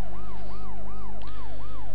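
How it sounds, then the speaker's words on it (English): A police car siren from the PS1 video game World's Scariest Police Chases wails in a steady rising-and-falling yelp, about five cycles in two seconds, loud and close over a low engine drone. "Put the siren on now,"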